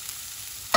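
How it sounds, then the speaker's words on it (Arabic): Green coriander dipped into hot oil for topping shishbarak in yogurt: a faint, steady hiss, then a sudden loud sizzle bursts in at the very end. "بس ندبلها في الزيت"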